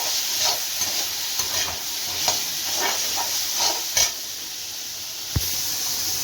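Drumstick and bean pieces sautéing in a pan for sambar, with a steady close sizzle and hiss broken by several sharp scrapes and clinks of stirring.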